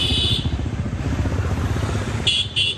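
Nepali motorcycle riding on the road toward Gorakhpur: a steady, close engine drone with a pulsing low rhythm and brief high whines at the start and end.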